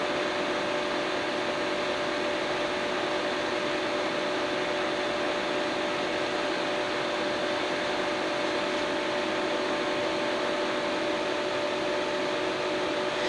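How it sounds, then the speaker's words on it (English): A T-shirt printer runs through a print job, giving a steady, unbroken mechanical whir and hiss with a faint constant tone, close by and alone, with no voices. "I felt it pull a little, so it's going to go ahead and print out."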